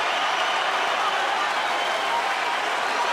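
Boxing arena crowd at the Mayweather vs Pacquiao fight roars and applauds continuously, a loud dense wall of cheering that holds steady throughout.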